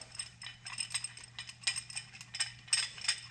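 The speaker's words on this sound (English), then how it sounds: "And then I'll push the caliper back. So I do have that special tool to do this, but it works just as well with the C-clamp here." A C-clamp is turned to push back the front brake caliper on a 1999 Toyota Camry, making quiet, close, irregular ratcheting clicks and metallic creaks over a low steady hum.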